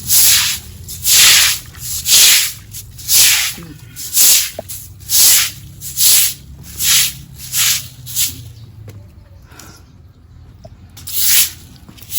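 Sandpaper rubbed over a stained wooden table outdoors, a series of rhythmic rasping strokes, each a loud hissing scrape, repeating about once a second with brief pauses and a short gap near the end.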